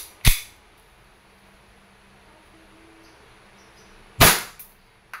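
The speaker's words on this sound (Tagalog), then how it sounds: "Okay, firing, semi-automatic." A WE Hi-Capa T-Rex airsoft pistol fires two sharp semi-automatic shots about four seconds apart. Each is a crisp, close pop with a short metallic clack, over a quiet background.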